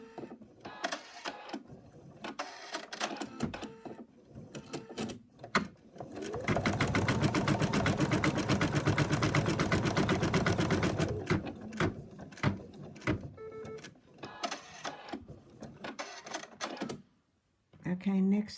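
An embroidery machine stitches a stuffed moose arm in the hoop, a fast, even mechanical chatter that runs steadily for several seconds mid-clip, framed by someone talking before and after along with soft handling clicks.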